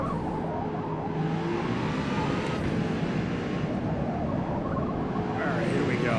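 A race car engine in Forza Motorsport drones steadily at high revs, with rising whines across the rev range, loud and continuous while someone talks over it.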